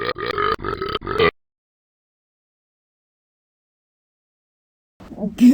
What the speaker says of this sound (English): Get ready for tons of burps.